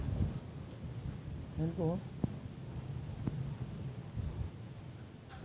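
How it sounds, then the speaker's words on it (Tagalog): Typhoon wind buffets the microphone in low rumbling gusts, with a short spoken phrase and a couple of brief knocks. "Sobrang hangin nararanasan namin yan."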